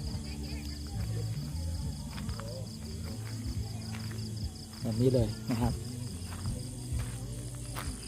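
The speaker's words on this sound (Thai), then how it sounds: "เสียง จิ้งหรีด ขันบ้างนิด หน่อยนะครับ" Steady cricket chirping runs throughout at a moderate distance at a quiet campsite, with someone talking briefly over it in the middle.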